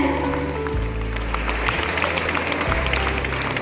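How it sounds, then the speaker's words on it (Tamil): An audience at a stage event gives a dense, steady round of applause, with many hands clapping together throughout at an even loudness. "இவங்க 2 பேருக்கு ஒரு பெரிய பெரிய கைத்தட்டல் கொடுக்கலாமா?"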